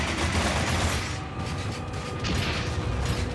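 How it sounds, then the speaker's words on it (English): Dense, loud gunfire and mechanical clatter from guns in the video game NecroVisioN, continuous and overpowering for a few seconds, with booming low rumble. "awful, awful guns that make it impossible to speak"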